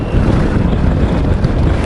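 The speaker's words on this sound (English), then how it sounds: "Wow, it is windy out here today." Heavy wind buffeting a microphone outdoors on a motorcycle trip through South Dakota, a loud, steady low roar with no voices.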